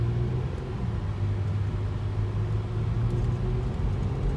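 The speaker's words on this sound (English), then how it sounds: "kita buat test drive lah untuk check dia punya shifting semua dan kick down dia" A Toyota Alphard or Vellfire on a test drive produces a steady low engine rumble and road drone from inside the cabin, smooth and continuous with no clear shift break or voices.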